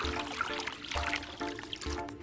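Water poured into a cup holding a green tea bag, a steady close trickle coming in three short bursts with brief pauses between them.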